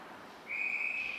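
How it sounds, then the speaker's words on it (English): A referee's whistle at a high school hockey game, Wausau West against Mosinee, sounds one steady shrill blast of about three-quarters of a second over low arena ambience. "and a whistle."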